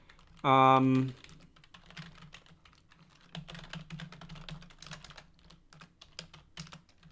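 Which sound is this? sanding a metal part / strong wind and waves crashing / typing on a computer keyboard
typing on a computer keyboard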